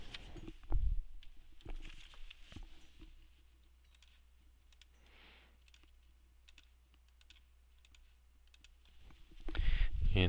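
Calculator keys are pressed in a series of soft, quick clicks and taps, faint and close, spaced irregularly with pauses between presses and a louder bump at the start and end.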